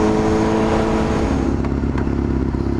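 A Honda CBR250RR's engine and exhaust drone loudly and steadily up close, a dense buzzing note with faint crackles near the end.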